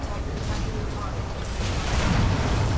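Heavy rumbling booms and bursts of cluster missile explosions in the video game Titanfall 2 roll on continuously, growing louder toward the end, with a voice talking faintly underneath.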